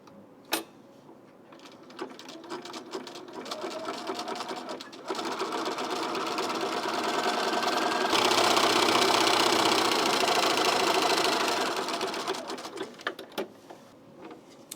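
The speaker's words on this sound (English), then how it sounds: "I'm going to be using the zigzag to top stitch the neckline" A sewing machine zigzag top stitching the neckline of a T-shirt with a 2.5 width and length, a steady close mechanical whir that speeds up through the middle and then slows with a few clicks at the end.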